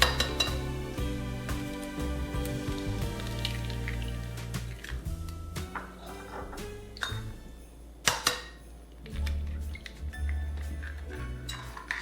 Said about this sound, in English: In a separate bowl, I am going to whisk 3 eggs.